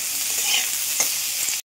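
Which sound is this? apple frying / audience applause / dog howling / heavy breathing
apple frying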